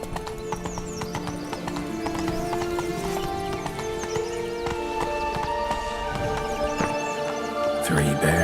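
Horse hooves clip-clopping at a run in The Witcher 3 game world, a steady rhythmic beat over layered game music and effects, with a brief whinny and a voice speaking near the end.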